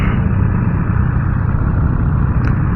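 A Triumph Street Triple R motorcycle engine while riding, a steady loud mid-range drone with continuous low rumble and no talk.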